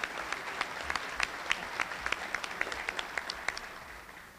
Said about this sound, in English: give those folks a handy round of applause